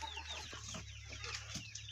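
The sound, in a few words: Australorp chickens clucking on a poultry farm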